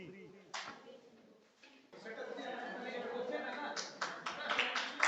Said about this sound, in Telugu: క్లాప్స్ కొడదాం